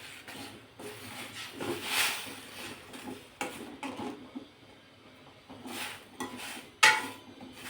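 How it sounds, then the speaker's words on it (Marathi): A lid goes onto a cooking pot of drumstick pods simmering with a little turmeric, giving a few close metallic clinks and clatters, with a sharp knock near the end. "आता झाकण ठेवते आणि एक 2-3 मिनिटं ह्या शेंगा नरम होईपर्यंत शिजवून घेते।"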